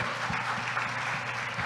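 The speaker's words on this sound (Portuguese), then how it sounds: "Uma salva de palmas" Audience applause for a pastor at a church gathering, a steady dense wash of clapping with no voices over it, fairly faint throughout.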